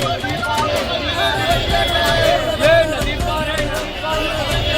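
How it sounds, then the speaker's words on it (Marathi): Busy rickshaw stand outside Gaya railway station in Bihar, where a dense, loud babble of many voices and calls blends with traffic noise in a continuous crowd hubbub. "इथं खूप रिक्षा स्टँडवर ओरडतात बोधगया वगैरे असं स्टेशन"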